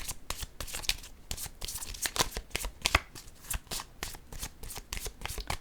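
Tarot-style cards are shuffled and handled in a card reading, giving a rapid series of close, crisp papery flicks and slaps with uneven rhythm and no talk.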